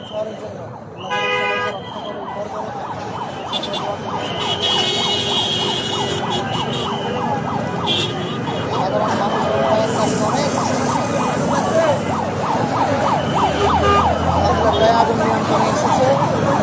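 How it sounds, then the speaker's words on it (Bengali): A fire service vehicle's siren wails in repeated rising and falling sweeps as it approaches, loud and close alongside horn toots and crowd noise at a fire near a gate, with people talking throughout. "দেখুন আপনারা আওয়াজ শুনতে পাচ্ছেন, ফায়ার সার্ভিস আসছে"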